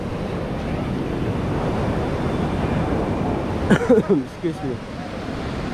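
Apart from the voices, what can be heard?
strong ocean waves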